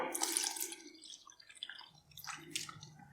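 Water splashes and drips into a thick dosa batter, with wet squishy sloshing sounds coming in short, close bursts.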